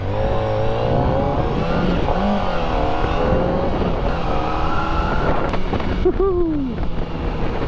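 A Kawasaki ZX-4RR sport motorcycle engine rumbles and revs up and down while riding, with wind noise and a few quick throttle blips near the end.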